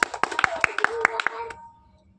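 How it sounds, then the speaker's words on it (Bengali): Hands clapping in a bottle-sweep party game played for pasta: a quick run of about ten sharp, close claps over roughly one and a half seconds, mixed with voices, then fading to quiet. "আবার ফেলো, আবার হাততালি"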